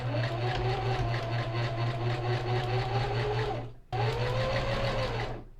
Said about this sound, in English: When you sew your strips together, your seams should kind of nest like this.